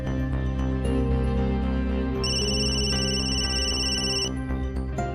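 Mobile phone ringtone from an incoming call late at night, a steady electronic ringing with sustained tonal notes lasting the whole stretch, loud and alone with no talk.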